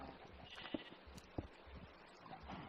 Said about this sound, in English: that sheep just literally ate and regrew its coat